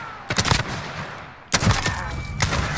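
Two loud, close gunshot bursts from a magnum revolver in Call of Duty Modern Warfare ring out about a second apart, each with a sharp crack and short echoing tail over quiet game background.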